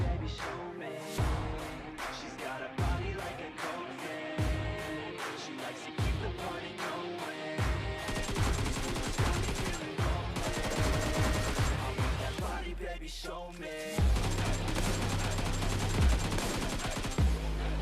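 Gunfire rattles through a firefight in the PUBG Mobile game, with repeated bursts of automatic shots and single cracks over a busy, dense game mix, with no pauses.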